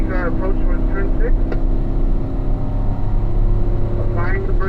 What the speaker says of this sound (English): We're up into 4th gear now as we make our approach towards turn 6.